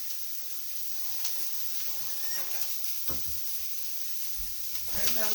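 Green peppers and onions frying in a pan for a Dorito casserole, a steady hissing sizzle under occasional scraping and stirring knocks, fairly quiet and close.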